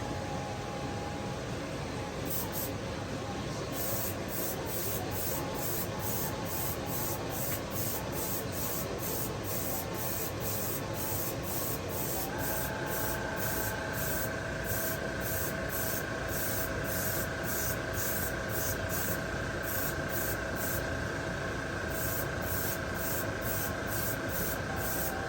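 A GAAHLERI GHAD-68 airbrush sprays paint onto a prepped, sanded part, giving a steady close hiss of air and spray that runs unbroken and fairly even in level throughout.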